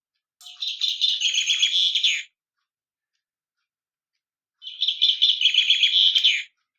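Recorded finch song from a bird clock chime, heard as two clean bursts of rapid twittering chirps separated by a silent gap, bright, near and loud with no talking.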